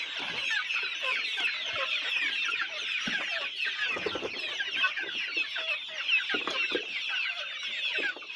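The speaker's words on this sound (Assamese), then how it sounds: "লোকেল মুৰ্গী" Local chickens on a farm in Assam cluck and chatter continuously, several birds overlapping at close range in a busy, unbroken flock murmur.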